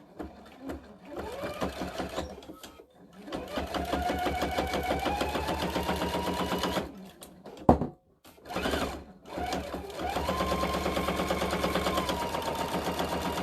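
A domestic sewing machine runs steadily as it stitches across a surgical mask, with several brief pauses and a sharp clunk in the middle before the whirring needle resumes.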